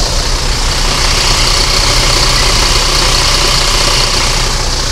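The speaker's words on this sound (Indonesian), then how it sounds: "Ini Fajar Riau Jetbus 3 MHD HDD ya, menggunakan sasis Mercedes-Benz OH 1626. Masih bagus suaranya loh." Mercedes-Benz OH 1626 chassis under a Jetbus 3 MHD HDD coach body, its diesel engine idling steadily and loudly nearby, a continuous low rumble with no voices over it.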